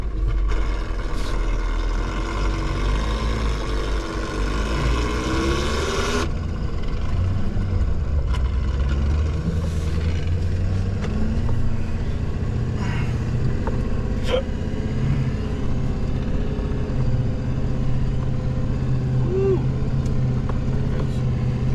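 A wrecker truck engine rumbles loudly and steadily as it drives into a deep ditch, with a heavy droning low end and occasional shifts in pitch throughout.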